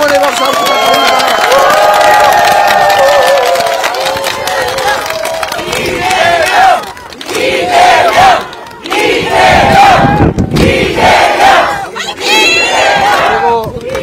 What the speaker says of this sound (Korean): 우리 응원의 박수 한번 부탁드립니다.